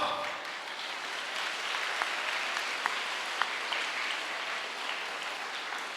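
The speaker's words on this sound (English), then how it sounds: "Shall you give a big round of applause?" Students and guests at a school Independence Day celebration clap together after the performances, a steady moderate wash of applause with a few sharper claps standing out.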